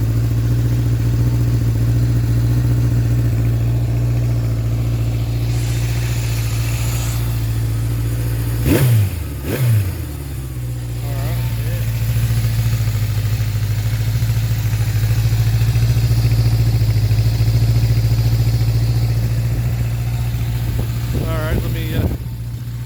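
A 1976 Honda CB750K motorcycle engine idles with a steady low rumble close by, blips through a sharp rev near the middle, then settles back to a smooth idle with a couple of brief throttle blips toward the end.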